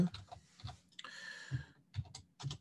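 Typing on a computer keyboard while writing HTML, with bursts of quick keystrokes separated by short pauses, close and moderately quiet, alone without talk.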